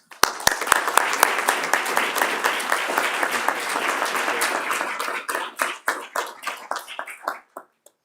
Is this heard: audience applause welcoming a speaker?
yes